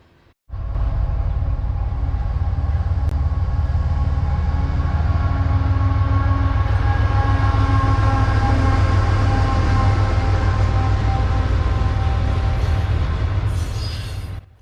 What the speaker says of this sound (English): Q225 is a auto rack train that moves from Osborne Yard in Louisville, Kentucky, down to Boyles Yard in Birmingham